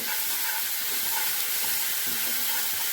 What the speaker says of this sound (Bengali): ভালো করে কষিয়ে নেবো সুন্দর করে কষিয়ে নেব মশলাটাকে